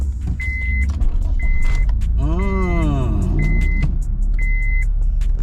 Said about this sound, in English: car fires up good,